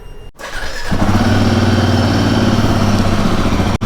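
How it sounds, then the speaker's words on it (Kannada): A new motorcycle's engine cranks and catches after a brief pause, then settles into a loud, steady close-up idle as it warms up, with no talking. "ಸ್ಟಾರ್ಟ್ ಮಾಡೋಣ ಗಾಡಿನ."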